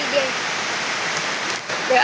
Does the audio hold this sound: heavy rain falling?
yes